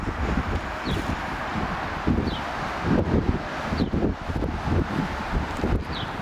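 Gusty wind buffets the microphone in uneven bursts outdoors during lawn work, with leaves rustling softly in the background.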